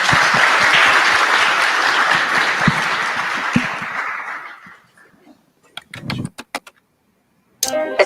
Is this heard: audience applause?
yes